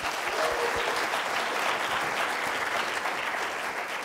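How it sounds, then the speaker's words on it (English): An audience at a diversity panel event applauds the panelists. A dense, continuous round of clapping from many hands runs steadily and fairly loud throughout, with no talk over it. "can you give a round of applause for them?"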